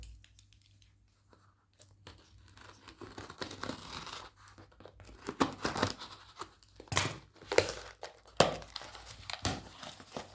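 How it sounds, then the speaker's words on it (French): Scissors cut open a small cardboard box with packaging inside, giving close crinkling, scratching and tearing sounds that grow busier and louder over several seconds, with sharp snips and rustles. "Alors, je vais l'ouvrir avec les ciseaux."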